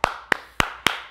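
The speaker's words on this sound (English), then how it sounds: "Give yourselves a round of applause." Children clap together at a library rhyme time session, four crisp, evenly spaced claps ringing out close and loud with short decays between them.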